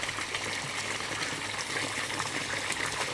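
Water pours steadily through an IBC tank filled with bio-balls in a constant-flow aquaponics system, a continuous close gushing splash at even loudness with no pauses.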